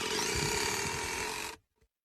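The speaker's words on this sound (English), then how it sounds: "Instead, I like to use something smaller, like the Milwaukee cordless screw gun." A Milwaukee cordless screw gun drives a screw in one continuous, loud motor whir lasting about a second and a half, then stops abruptly, leaving a brief faint click.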